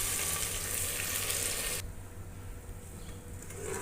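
A paste of tomato, garlic, ginger and onion goes into browned onions in a hot pan, raising a loud hissing sizzle that softens abruptly halfway as the mixture settles, with no speech.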